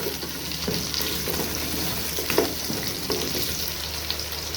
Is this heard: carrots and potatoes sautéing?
yes